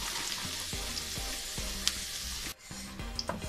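Garlic and ginger sizzle and crackle steadily in hot oil over slow heat, close up, with a few scraping stirs and a brief dip in the hiss partway through.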